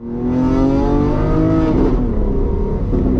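Straight-piped Lamborghini Aventador Ultimae revving at light throttle, a loud, close, rising engine note with a raspy harmonic tone that climbs steadily, then drops off near the end, with no talking.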